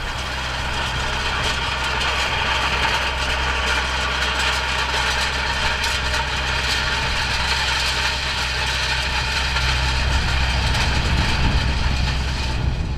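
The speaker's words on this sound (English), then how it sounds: "So Jonathan is now rolling in the beans to conserve moisture." 1990 John Deere 4455 tractor on dual wheels pulling a 12.2 metre set of Opico Vari-Flex rolls across a spring bean field, a steady loud engine drone with rattling, continuous and unbroken throughout.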